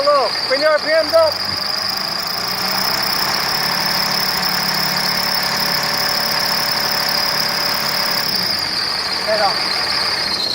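A car engine idles and then revs up during a charging system test, settling into a steady higher drone with a thin whine on top, as a voice briefly speaks at the start.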